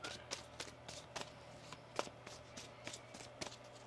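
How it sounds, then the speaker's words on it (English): Tarot cards shuffled by hand in a quiet room, a steady run of soft, crisp riffling ticks and flutters about every quarter second, close and fairly faint, with no talking. "One more shuffle."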